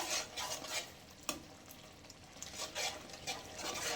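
Gojju frying in oil in a pan, a faint, continuous sizzle with soft stirring swishes and one small clink, fairly quiet throughout.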